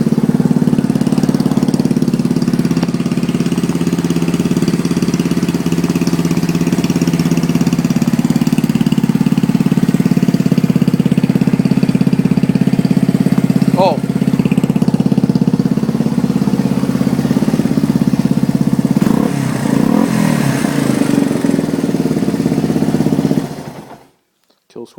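A Yamaha BW200 big-wheel motorbike engine, started with the choke off, runs at a loud steady idle close by before cutting out at the end.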